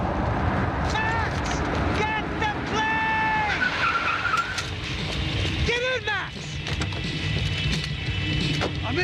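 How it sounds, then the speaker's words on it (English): A car in the video game Max Payne 3 drives hard and skids, with repeated tire squeals and engine roar in a chaotic action scene, and voices shouting over it. "Just drive the fucking car!"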